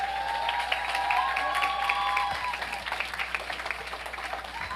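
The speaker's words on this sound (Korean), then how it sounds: "이 자리에 오신 우리 이만영 강사님께 감사의 박수로 맞이하도록 하겠습니다" An audience at a lecture applauds to welcome the lecturer, a soft, steady patter of clapping mixed with tonal voice-like sounds, moderately loud and sustained throughout.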